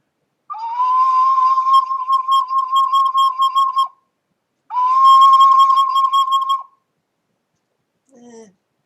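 A ceramic ocarina sounds a C above middle C in two sustained, pure whistling notes with slight wavering, separated by a short pause, played close and alone, followed by a faint brief low tone.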